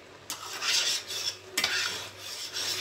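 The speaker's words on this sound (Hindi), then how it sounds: "यहाँ हमने इसको चमचा चलाते रहना है ताकि हमारा जो नीचे ना लगे" A spoon stirs a dish in a pot as ghee is added, likely carrot halwa (gajar halwa), giving close, steady scraping and rasping strokes against the pan bottom, repeated in a rhythmic pattern with no talking.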